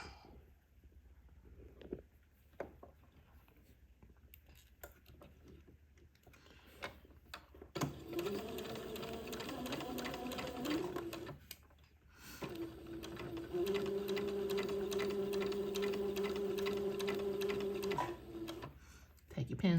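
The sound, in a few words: sewing machine stitching entredot lace to a baby bonnet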